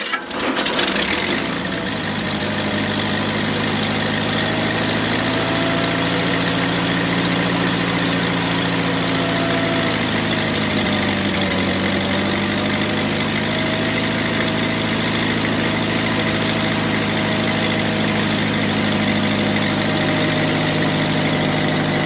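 A Dimension mobile sawmill engine starts up and runs steadily at half throttle, a loud continuous drone with a slight dip and recovery in pitch midway, no voices over it.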